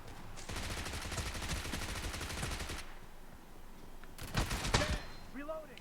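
Rapid bursts of automatic gunfire in a mobile video game rattle in two stretches, a long volley then a shorter one, loud and sharp with a brief lull between.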